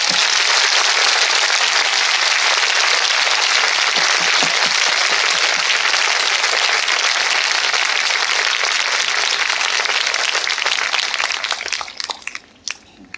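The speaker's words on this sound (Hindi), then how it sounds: "जिन लोगों ने आशीष पाई, मैं चाहता हूं वो लोग परमेश्वर के लिए ताली बजाएंगे।" A church congregation at a Hindi-language worship gathering claps loudly and continuously, a dense wash of many hands that holds steady before thinning out and stopping near the end.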